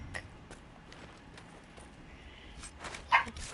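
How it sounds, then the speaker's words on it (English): A dog barks in the fantasy role-playing video game Dragon Age: Inquisition, with a few soft, scattered yaps and one sharper bark near the end over quiet game ambience. "The whole video is gonna be a dog barking."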